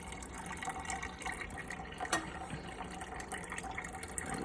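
Hot water at 170 degrees Fahrenheit poured through grains during home beer brewing. It gives a steady, soft trickling and splashing wash of running liquid with a brief louder splash midway, fairly faint and continuous throughout.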